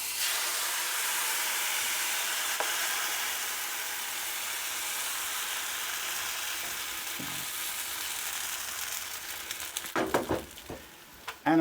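Pancake batter sizzles in butter in a frying pan, a steady close hiss running unbroken for most of the time, then breaking into sharper crackles and spits near the end.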